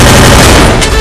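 Gunfire from the Free Fire video game pours out as a dense, very loud burst of rapid shots that fills the whole moment, with no voices.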